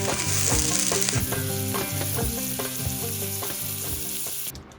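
Sirloin strip steak, potatoes and onions fry together in a pan, a loud, close, continuous sizzle with crackling pops and stirring scrapes, no voices.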